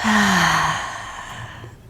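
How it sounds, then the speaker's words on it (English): A deep, audible breath out during a yoga and Pilates stretch, starting with a soft voiced sigh that falls in pitch and trails into a fading airy exhale. "Take a deep breath in. And all the way out."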